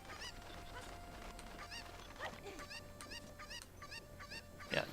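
Chickens in The Legend of Zelda: Ocarina of Time give a series of short, squawking honk-like clucks, repeated irregularly over a steady background hum of game ambience, with no talk.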